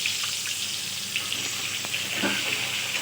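Salted, turmeric-coated pointed gourd pieces frying in hot oil in a kadai, giving a steady, dense sizzle that stays loud and even throughout, with no talk.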